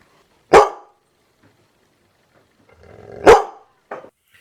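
Two sharp dog barks stand out clearly against silence, followed by a short yip, with a faint growl rising just before the second bark.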